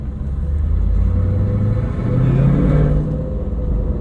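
A 1998 Chevrolet Camaro Z28 engine rumbles loudly and steadily, with the revs briefly swelling midway before settling back, no voices.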